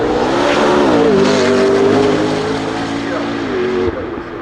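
A Bugatti hypercar pulls away, its engine note droning in a steady, loud rising-and-settling tone throughout, with a voice talking over the motor.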